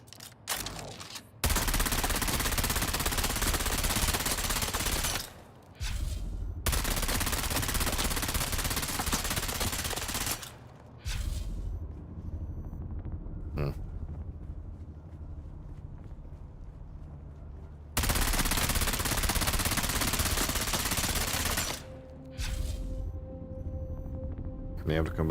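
Bursts of loud automatic gunfire in a Dune video game, long sustained volleys separated by short pauses and quieter stretches, with a few sharp single shots in between.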